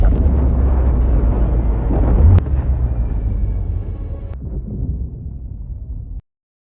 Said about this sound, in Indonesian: Begitu pula dengan Rooka yang ikut hancur dalam ledakan tersebut.